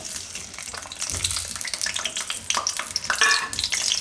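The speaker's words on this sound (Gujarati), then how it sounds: "તો હવે આપણે આ તેલ ગરમ થઈ ગયું છે. તો એમાં આપણે નાખી દઉં આ લસણ" Garlic cloves dropped into hot oil for a Gujarati amla chutney fry with a steady, loud crackling sizzle, and a sharper burst of spitting near the end; no one speaks.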